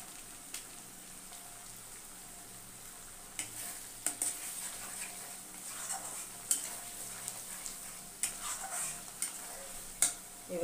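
Red chili powder sizzles in hot oil in a pan for chicken korma, with faint steady frying hiss and scattered sharp scrapes and clicks of stirring, closer and louder in the second half.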